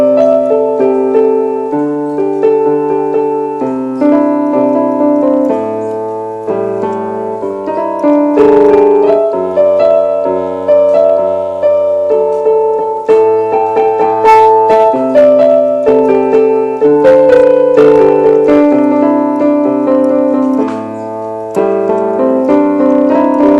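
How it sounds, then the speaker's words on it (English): Piano solo from a song, played as a flowing, sustained passage of chords and melody lines, fairly loud and steady throughout with no talking. "if you play the piano solo only from the first part of that solo, it will sound like this."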